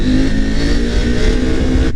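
Husqvarna Norden 901 adventure motorcycle engine revving hard during a wheelie, a loud, steady, close-up roar that holds for about two seconds with no voices, cutting off abruptly at the end.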